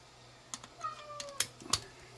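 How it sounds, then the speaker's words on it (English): A whiny cat lets out a single drawn-out, falling meow at close range, with scattered keyboard clicks and soft thumps around it in a quiet room. "he is just a very whiny cat."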